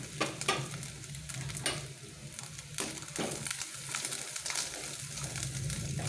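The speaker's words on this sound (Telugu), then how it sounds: "కొబ్బరి ముక్కలు వేసి వేయించుకోవాలి" Small chopped coconut pieces fry in hot oil in a pan, sizzling steadily while a utensil stirs and scrapes them in repeated strokes. No one speaks.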